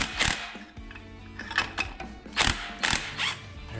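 A flywheel puller works the flywheel off a Predator 212 Ghost small engine, giving a series of sharp metallic clicks, ratcheting and clanks in irregular bursts, close and moderately loud with no talk.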